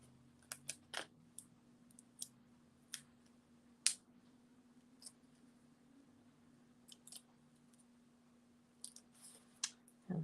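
Scissors snipping card-making ribbon, a scattered series of crisp, sharp clicks and snips spaced irregularly over a quiet room, close and fairly faint, with no talking.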